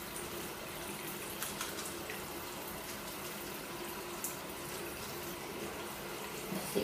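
Water runs steadily from a tap while a paint brush is rinsed under it, a continuous close splashing hiss with small knocks and splutters, no talk.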